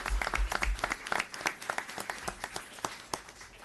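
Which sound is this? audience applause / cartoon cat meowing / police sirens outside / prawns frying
audience applause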